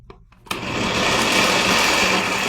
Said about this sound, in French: Nous fermons le mixeur et nous allons bien mixer le tout.